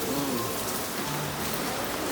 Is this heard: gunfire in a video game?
no